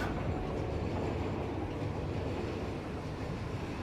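A video game train rolls along its rails with a continuous low rumbling drone and faint clatter, steady and moderately loud with no talk.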